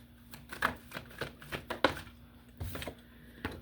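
Tarot cards being shuffled by hand, a series of quick papery riffles and flicks in irregular bursts, fairly close and quiet, with no talking.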